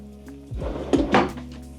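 Built-in drawers in a 2024 East to West Alta 3100KXT travel trailer slide and bump shut, giving a few close wooden thunks and a short rolling rattle.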